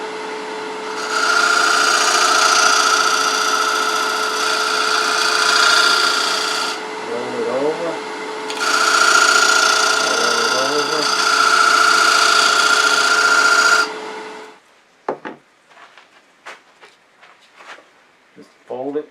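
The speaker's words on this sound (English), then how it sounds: "Slow the lathe down a little bit, sanding." A wood lathe turning a bowl while it is sanded, a loud steady whine and rushing abrasion in two long runs, then stopping, followed by brief handling sounds and a voice speaking.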